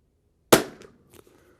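A single sharp crack from a Christensen Arms Ranger 22 rifle firing .22 ammunition, close and loud, with a brief fading tail and a faint clink after; no speech.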